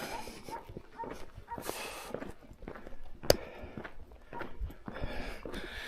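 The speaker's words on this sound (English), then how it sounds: "That dog was locked up, thank God." A dog locked up somewhere along a hilly road gives faint, distant yips and whimpering barks in short scattered bursts, mixed with nearby footsteps and one sharp click.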